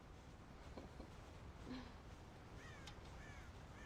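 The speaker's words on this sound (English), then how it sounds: "God damn crows!" Crows caw repeatedly around a ranch corn silo in the video game Red Dead Redemption, several harsh calls spread out over a steady, quiet outdoor background.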